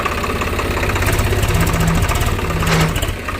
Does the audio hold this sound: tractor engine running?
yes